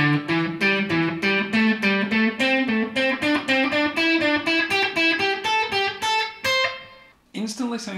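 A scale is played in short overlapping sequences on an instrument run through effects, rapid distinct notes climbing steadily in a bright, even rhythm, ending in a brief pause and a sliding phrase, alone without talk.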